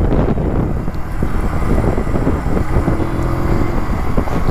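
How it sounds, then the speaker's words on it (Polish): Steady rush of wind over a helmet while riding a Junak M12 Vintage motorcycle, with a low engine drone underneath, loud and continuous without speech. "Ogólnie tak jeżdżę na motorze"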